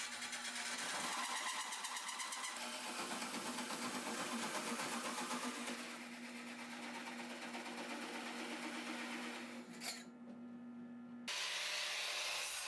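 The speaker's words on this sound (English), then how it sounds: "Here we are back at the drill press with a smaller hole saw." A drill press drives a small hole saw through metal for a cyclone dust collector build, giving a loud, steady whining cut with a constant motor hum that stops abruptly near the end, then resumes.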